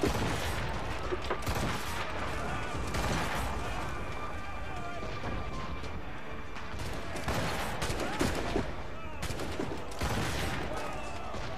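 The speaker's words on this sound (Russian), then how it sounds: "давайте попробуем опять-таки с пушки всех стрелять на этот раз" Ship cannons fire in bursts during a naval battle in the video game Assassin's Creed Rogue, booming shots and explosions layered over game sounds while someone talks throughout.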